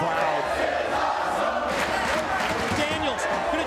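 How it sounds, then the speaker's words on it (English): A wrestling arena crowd at an X-Division match cheering loudly, a dense continuous roar of many voices with shouts rising through it. "Listen to the crowd."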